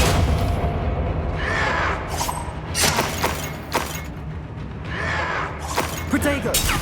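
Expelliarmus and other duelling spells in Hogwarts Legacy burst out as repeated loud whooshing blasts and shattering impacts, several in quick succession, with voices in combat mixed among them.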